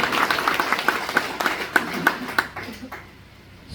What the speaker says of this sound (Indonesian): Ayo kita berikan aplaus dulu.